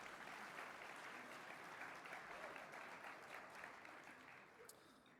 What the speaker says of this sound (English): That would be fine to applaud.